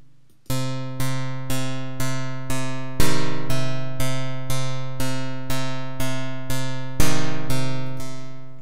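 A BeepStreet Drambo step sequencer plays a four-voice chord pattern as evenly spaced synth chords, each struck and decaying, with a few louder accented hits, and no talking.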